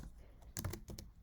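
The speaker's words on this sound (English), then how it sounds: "Pardon the bad typing." Short bursts of typing on a computer keyboard, a handful of soft close key clicks in an uneven rhythm, faint and alone.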